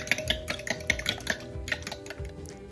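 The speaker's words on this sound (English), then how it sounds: "Add some salt and pepper and whisk together." Rapid rhythmic clicking of a whisk against a bowl, beating eggs and milk, repeated strokes close up, with no talking.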